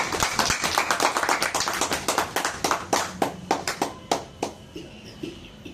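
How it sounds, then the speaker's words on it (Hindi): At a public gathering for Karpoori Thakur's birth anniversary, a small group claps for a speaker, with distinct individual claps in a quick rhythm that thin out and fade to scattered final claps. "उमेश बाबू के लिए कृपया जोरदार ताली"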